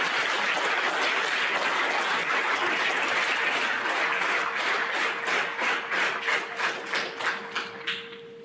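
An audience at an 8th grade school awards program applauds a math academic excellence award. Dense, sustained clapping thins toward the end into a few separate rhythmic claps before it fades.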